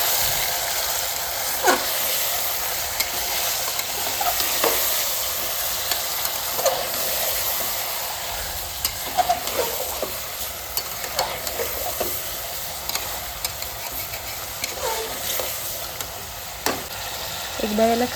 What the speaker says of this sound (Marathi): चिकनला हळद व मीठ लावून ठेवलं होतं ते यामध्ये घालायचं आहे व त्याला छान असं हलवून घ्यायचं